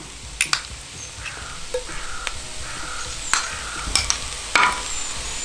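Tomato paste and paprika powder roast briefly in a pan for smoked beef goulash, a soft continuous sizzle broken by sharp clicks and scrapes of stirring.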